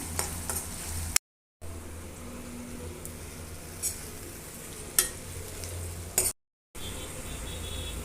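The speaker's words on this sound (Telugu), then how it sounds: "ఉల్లిపాయలు బ్రౌన్ కలర్ వచ్చే వరకు ఫ్రై చేసుకుందాము." Onions frying with green chillies and salt in a pan give a steady, close sizzle with occasional stirring scrapes and clinks, broken by two brief silent cuts.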